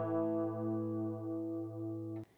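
A sustained clean electric guitar chord rings out with a shimmering chorus effect from a MICRORIG portable rig, slowly fading before being cut off abruptly with a brief click.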